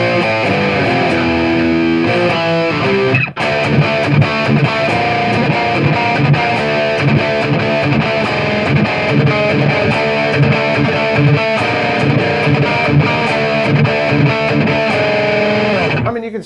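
Loud, heavily distorted electric guitar, a Fesley FLP350 LP-style, plays continuously through a high-gain amp, thick and saturated with sustained chords and riffs and no pauses.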